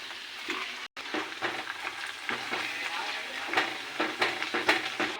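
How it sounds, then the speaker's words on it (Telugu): Ground coriander paste stirred into hot tempering oil for a coriander pickle, with a soft sizzle under scraping spoon strokes against the pan, close and fairly quiet. "రుబ్బు పెట్టుకున్న కొత్తిమీరని వేసుకుందామండి"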